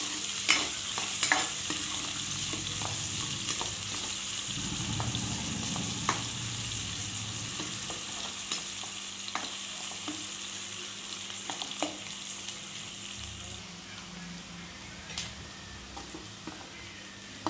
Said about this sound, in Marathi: व्यवस्थित कांदा परतून घ्यायचा आहे।